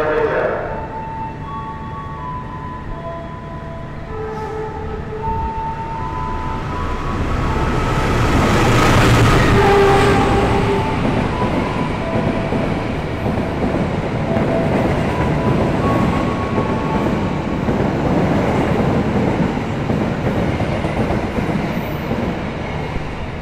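A passenger train in Indonesia, the Taksaka from Yogyakarta to Gambir, rumbles past, its roar swelling to a peak and then continuing steadily with rattling wheels and a faint whistle-like tone.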